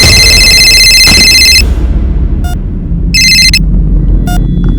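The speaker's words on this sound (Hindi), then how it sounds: "रौनक का फोन है।" A telephone rings in loud electronic bursts, one long ring followed by shorter repeated rings, over a low rumbling background.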